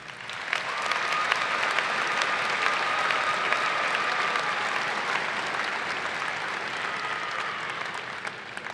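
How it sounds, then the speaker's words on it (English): Sustained applause from a commencement audience at a graduate school ceremony, a dense, steady wash of many hands clapping that starts after about half a second and holds at an even level to the end. "Please join me in congratulating them with a round of applause."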